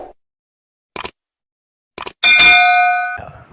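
A notification bell sound effect: two brief knock-like taps, then a bright ringing ding that sustains for about a second before fading, alone with no talk.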